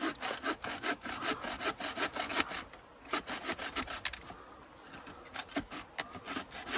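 Hand saw cutting wood for a campfire at an outdoor bushcraft camp, rapid rhythmic rasping strokes with a few pauses, close and clear with no talk.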